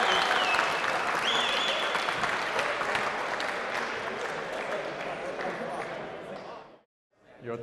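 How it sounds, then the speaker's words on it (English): Sustained audience applause and cheering for a university engineering design competition team, dense clapping that fades over several seconds before a brief silence, with a presenter's voice just audible underneath. "Give them a round of applause."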